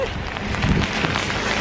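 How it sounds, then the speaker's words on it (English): Rain falls steadily on a street while someone walks across it outdoors, a loud close patter and hiss with scattered heavier drops throughout the short stretch. "this is just me walking across the street in the rain"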